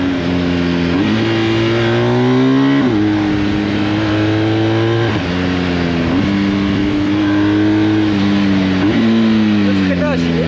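A BMW R 1250 GS motorcycle engine pulling hard while ridden: a loud, steady throb that climbs in pitch and drops back at each gear change, repeated several times under rushing wind noise, with a voice talking over it.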